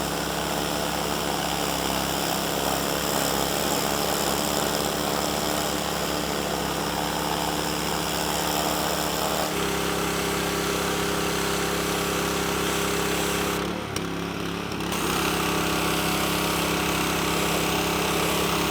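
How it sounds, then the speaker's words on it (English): A gas pressure washer engine runs at a steady, loud drone for the whole stretch, with a brief shift in tone partway through and no voices. "So I'm going to fire up the pressure washer and we're going to show you what this looks like."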